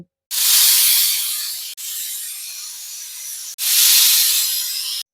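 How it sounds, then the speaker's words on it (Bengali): Three sharp, loud hissing bursts of steam from a pressure cooker whistle while cooking young jackfruit, each lasting over a second, separated by brief breaks. "দেখো তিনটে সিটি পড়ে গেছে"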